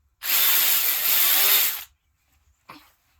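A battery ratchet spinning off a nut gives one loud, steady buzzing whir lasting about one and a half seconds, then a short quieter burst after a pause, close up with no talking.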